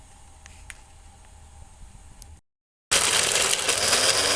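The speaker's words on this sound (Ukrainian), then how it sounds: "я в першу чергу, чергу перемалю в кофемольці" An electric coffee grinder whirs loudly as it grinds walnuts, a steady harsh burst starting after a short silence, preceded by quieter handling noise.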